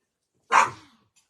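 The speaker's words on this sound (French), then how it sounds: "Ça, c'est mon nouveau chien." A single sharp bark from a new pet dog indoors, close and loud, fading quickly into silence.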